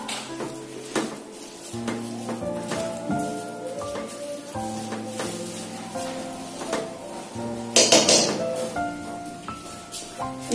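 Veg chowmein being mixed in a hot pan, with a steady sizzle and repeated scraping, clinking strokes of a utensil under soft background music, ending in a louder rustling scrape.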